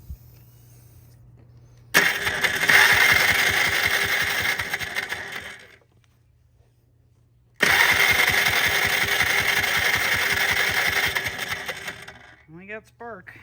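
A 1995 Polaris Trail Boss 250 ATV engine cranks without starting in two long bursts, each a few seconds of rapid churning separated by a pause, with a brief voice near the end.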